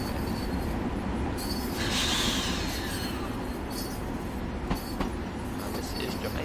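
Electric third-rail commuter train, a Long Island Rail Road M3, in Train Simulator Classic, with a steady motor and wheel rumble throughout, a rising whine and brief high wheel squeal, and a single sharp click near the end.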